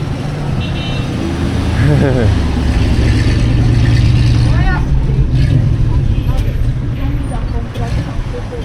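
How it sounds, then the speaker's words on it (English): A small local chicken bus rumbles by on a street with a low, steady engine drone and a rising whine as it passes, mixed with traffic noise while people talk over it. "here's the little chicken bus"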